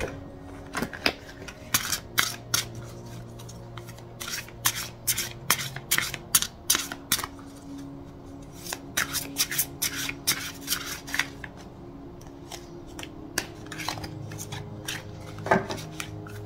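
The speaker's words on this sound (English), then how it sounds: "Sometimes I feel ridiculous shuffling these cards because they're so big." Large oracle cards being shuffled by hand: repeated papery riffles, slides and soft taps in uneven bursts with short pauses between, close and quiet.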